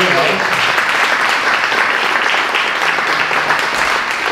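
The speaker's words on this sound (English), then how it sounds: "let's give these guys a round of applause" A church congregation claps together in a dense, sustained round of applause, loud and close, holding steady throughout with a few voices faintly mixed in.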